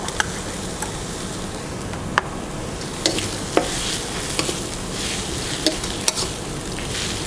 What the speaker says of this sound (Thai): ผัดอีกสักเล็กน้อยนะคะ